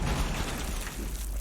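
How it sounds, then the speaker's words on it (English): An exothermic breaching charge detonates during a competitive Rainbow Six Siege match on the Border map, a dense rumbling boom filling the whole moment with sustained low-end roar and no voices. "You have the exothermic charge going off"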